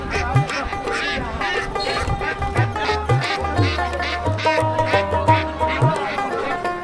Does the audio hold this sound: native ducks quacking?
yes